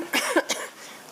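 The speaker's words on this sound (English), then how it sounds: "I'm going to try not to have a coughing attack." Short, sharp coughs at a public committee meeting, three quick bursts close together, picked up at moderate level by a room microphone before the room settles into quiet.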